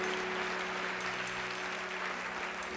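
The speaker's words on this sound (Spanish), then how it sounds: "Denle un aplauso a Dios." Church congregation applauding during a sermon, a soft, distant wash of clapping under a steady low hum of the room.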